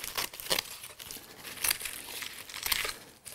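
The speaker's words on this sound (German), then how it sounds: "die kann man ganz schön mit der Schere schneiden" Crisp crinkling and snipping of dry coconut fibre cut with scissors, a few sharp cuts close by with rustling between them, no talking.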